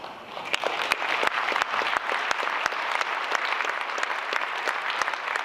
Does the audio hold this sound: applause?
yes